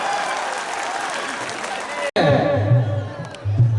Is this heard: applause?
yes